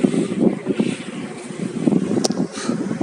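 Boat ride on a fast river current, a steady rushing wash of water and wind buffeting the microphone, with a brief high clink near the end and no clear talk.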